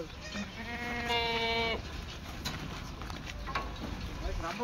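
Goats at a livestock sale give one long, loud, wavering bleat up close, while people talk and move about through the busy market noise.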